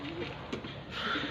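A racing pigeon just returned to a loft in Balanga, Bataan coos softly in a few low, throaty calls close by, with faint background noise and a person talking.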